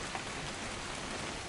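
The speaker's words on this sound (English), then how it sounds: "It's gonna rain the whole weekend, isn't it?" Steady rain in the video game What Remains of Edith Finch, a dense, even hiss of drops falling without pause and with no voices over it.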